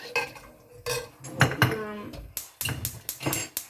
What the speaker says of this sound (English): put the salt in, give it a stir